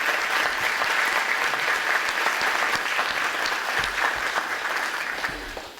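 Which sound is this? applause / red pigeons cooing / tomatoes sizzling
applause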